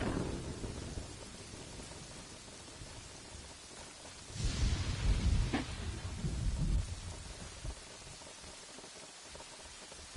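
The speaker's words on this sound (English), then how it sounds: "And it started to rain." Rain falls in the village-building game Kingdoms and Castles, a steady hiss with a swell of rumbling thunder midway before it settles back to even rainfall.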